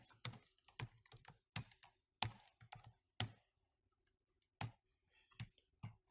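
Computer keyboard typing in quiet, irregular bursts of close, crisp key clicks with short pauses between them.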